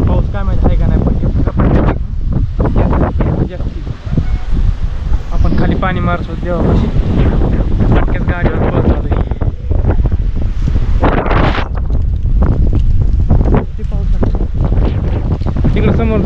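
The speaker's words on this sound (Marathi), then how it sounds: "लय वारं भयानक वारं सुटले वादळ आहे" A strong storm wind roars and buffets the microphone in heavy, continuous gusts, loud and close, while someone talks over it.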